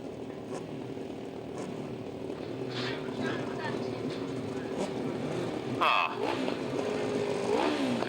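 Sidecar motorcycles racing at the Berks Bonanza grasstrack meeting at Steventon in 2005, a steady engine drone with rising revving passes, and an announcer talking over it throughout.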